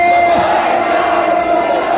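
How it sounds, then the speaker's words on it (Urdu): A large religious gathering chanting Labbaik Ya Rasool Allah in unison, a loud, sustained roar of many voices answering the preacher's call. "آواز بلند کر کے لگائے, لبیک یا رسول اللہ"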